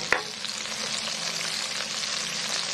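Garlic fries in a pan for terasi fried rice, a dense close sizzle that opens with a sharp clink and continues steadily with faint stirring scrapes and no talk.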